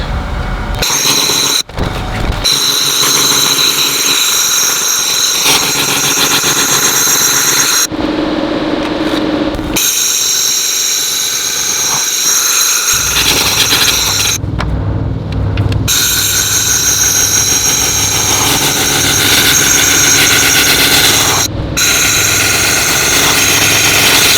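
An XlaserLab X1 Pro laser cleaner strips more than ten years of rust, giving off a steady, loud machine drone and hiss with brief breaks and shifts in tone.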